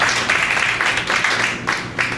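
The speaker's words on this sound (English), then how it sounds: "big round of applause" An audience at a comedy roast breaks into a round of applause, with dense, steady clapping in a sustained roar of many hands that swells and dips slightly without pause.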